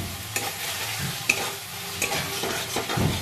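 Milk taro leaves coated in ground masala are stirred in a hot pan, with soft scraping strokes over a steady, gentle sizzle of frying.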